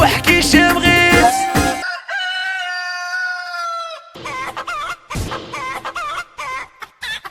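Chickens and a rooster in a farmyard with ducks, heard close up as repeated loud crowing calls alongside clucking and squawking, with brief quiet gaps between bursts.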